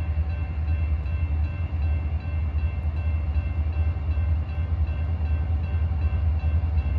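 A CSX freight train, a yard transfer running to Walpole, rolls past in the snow at Medfield with a steady, loud low rumble and roar that holds throughout, with no voices.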